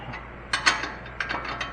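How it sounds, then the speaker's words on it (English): A wrench tightening a chassis bolt on a GMC Envoy tie rod, making a quick series of close ratcheting clicks in two short bursts. "I go good and tight with my wrench, and then I will double wrench"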